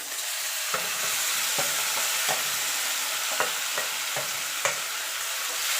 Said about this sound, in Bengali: পেঁয়াজটা লাল লাল করে ভাজা হয়ে গেছে মাছটা দিয়ে দেবো